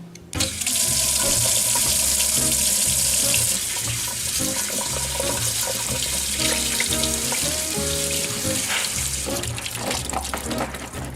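Tap water runs steadily and loudly into a sink as peeled potatoes and onions are rinsed, a continuous close splashing rush with some clatter of vegetables underneath.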